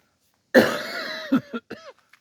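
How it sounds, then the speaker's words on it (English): One harsh cough up close, followed by a few short rasping throat sounds trailing off. "Excuse my cough."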